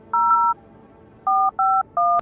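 A telephone keypad sounds five clear dialing beeps in a game: two tones in quick succession, a pause, then three more evenly spaced, loud and clean with no talk.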